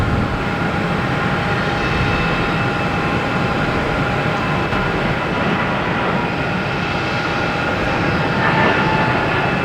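A JetBlue airliner's jet engines roar steadily at Boston Logan Airport, a broad continuous rumble with a faint tonal whine, loud and close throughout with no talking.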